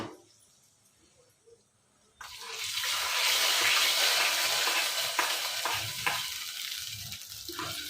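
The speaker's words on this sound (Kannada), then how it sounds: "ಈಗ ಹಾಕಿದ್ದನ್ನ ಮಿಕ್ಸ್ ಮಾಡ್ತಾ ಇದ್ದೀನಿ ನೋಡಿ" Ingredients stirred in ghee in a pan while making a Navaratri prasad, a loud, steady sizzle with scraping of the spoon that begins abruptly after a quiet opening and continues close up, with no talking.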